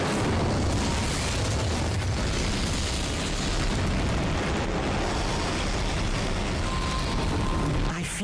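Incendio fire spell explosion in the video game Hogwarts Legacy, a dense, loud, sustained roaring blast of fire that fills several seconds before cutting off abruptly.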